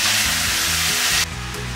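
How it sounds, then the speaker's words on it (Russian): Chicken, carrots and green beans frying in a hot pan give a loud, continuous, close sizzle that drops slightly in intensity toward the end. "Пока обжаривается морковь с фасолью"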